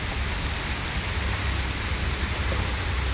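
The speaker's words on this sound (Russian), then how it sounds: "Сегодня погода дождливая." Rain falling outside a Magnum supermarket in Chilonzar, Tashkent, a steady dense patter with a low rumbling wash beneath it, continuous and moderately loud, and nobody talks.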